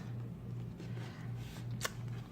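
Close, quiet riffling and sliding of a tarot card deck being handled and shuffled, with a short sharp snap of cards near the end.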